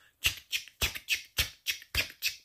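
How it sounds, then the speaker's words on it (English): Eight rhythmic toothbrush strokes, evenly spaced and crisp, each a short scratchy swish with a quick decay, close up and alone. "so the brush strokes sound like this"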